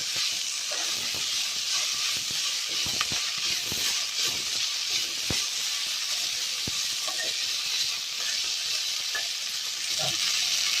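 Ingredients frying in a pan with a steady, close sizzling hiss and scattered crackles and pops throughout, no voices.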